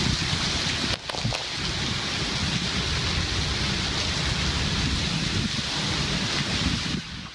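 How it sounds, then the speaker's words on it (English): A thunderstorm squall pours heavy rain steadily, with a sharp crack of thunder near the start and a rumbling boom near the end, loud and continuous with no voices. "That is when the squall was actually going through Broken Arrow tonight."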